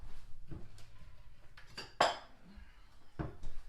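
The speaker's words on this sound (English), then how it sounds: "we're gonna use a spoon and we're gonna get a bowl" A spoon and bowl are taken out for cooking turkey and spaghetti squash, producing a few scattered clinks and knocks of dishes and cutlery close by, with one sharper clatter in the middle and no talk.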